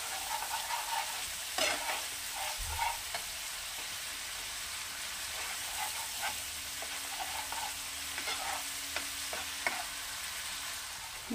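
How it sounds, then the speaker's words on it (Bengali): Spice masala for a Bengali methi katla fish curry fries and gets stirred in a pan, a continuous low sizzle broken by intermittent scrapes and clinks from the stirring, with no voices. "মশলাটা খুব ভালো করে কষিয়ে নিয়েছি।"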